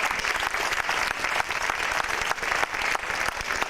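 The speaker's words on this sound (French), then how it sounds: "On peut les applaudir très fort." An audience in a hall welcomes the Lucina Ballet of Bratislava with steady, dense applause, loud and continuous the whole way through, with no voices rising above the clapping.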